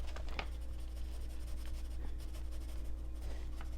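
Steady, fine scratching of a colored pencil shading across paper, soft and close, with brief stronger strokes.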